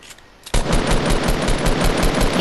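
Automatic gunfire from a large 50v50 online shooter match rattles out in a rapid, loud, close burst of rhythmic shots that keeps going without a break for about two seconds.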